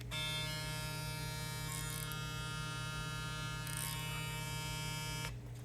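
A WezTeck electric hair clipper with its guard attached runs with a loud, steady close-up buzzing hum that stops abruptly just before the end.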